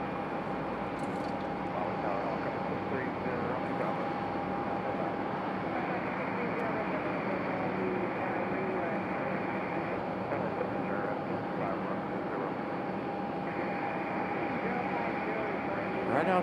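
A SkyWest Embraer E175 jet on a Delta Connection flight from Austin, arriving at Raleigh-Durham airport, gives a steady, broad jet roar that holds evenly for the full length with a faint tonal whine running through it.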